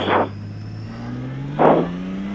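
A Honda Goldwing motorcycle engine runs on a Tennessee road, a steady hum with a rising pitch and two brief louder whooshes.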